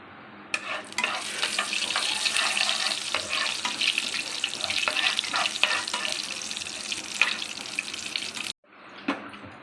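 Mustard seeds, cumin, urad dal and chana dal fry in hot oil for an onion chutney tempering, giving a loud, steady crackling sizzle with sharp pops. It stops abruptly near the end, then a fainter sizzle returns.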